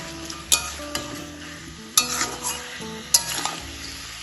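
Chicken pieces with ginger and dry chilli paste being stirred in a hot pan, a steady close sizzle broken by several sharp scraping strokes of the spatula against the metal, with no voices.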